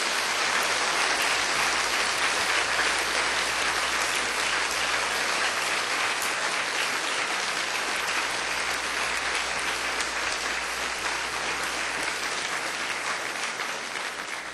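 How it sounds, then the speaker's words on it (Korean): Church congregation gives a sustained round of applause during a worship service, a dense, even wash of clapping filling the room throughout with no talk over it. "우리 주님께 기쁨의 박수를 한번 올려드리도록 하겠습니다"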